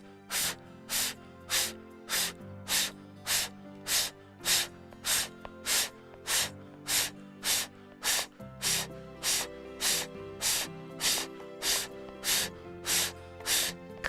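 Rapid rhythmic breath-of-fire yoga breathing during an elbow plank, with about two sharp, forceful nasal exhales per second repeating evenly and close up, alone without talk.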